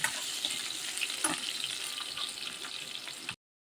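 Chopped onion, garlic and chili frying in plenty of oil for a mixed vegetable dish, a steady close hissing sizzle with a few soft stirring bumps that cuts off abruptly.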